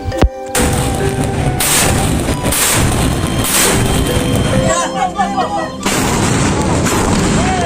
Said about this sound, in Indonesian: 1 percikan api kecil, sedikit air, dan ledakan besar menggema.